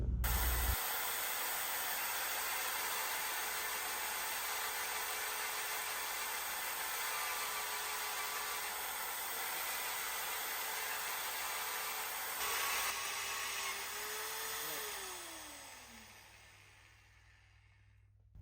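A power tool cutting a hole in a Peterbilt truck frame, a loud steady hiss and whine that runs for many seconds before the motor winds down with falling pitch and fades.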